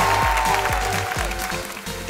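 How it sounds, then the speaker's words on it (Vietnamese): Audience applause fills the whole moment, a dense wash of clapping with a few louder individual claps standing out, steady and close. "Cho họ thêm một tràng pháo tay nữa được không quý vị ơi?"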